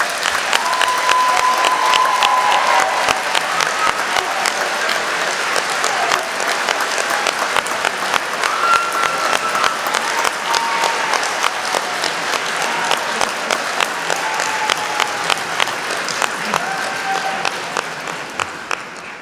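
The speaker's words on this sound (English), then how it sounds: "let's give them a huge round of applause" Sustained audience applause fills a graduation ceremony hall in London, a dense steady wash of many hands clapping together for nearly twenty seconds, with faint cheers and a few voices mixed in before it tapers at the end.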